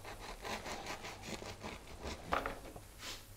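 A knife saws through a loaf of fluffy homemade yeast-free bread, still warm. Repeated rasping strokes run steadily and close at moderate level, with no voices over them.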